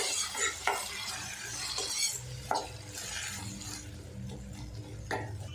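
Chopped country tomatoes and garlic fry in a pan for a spicy kara chutney while a spoon scrapes and knocks against the metal in irregular strokes over a low, steady sizzle.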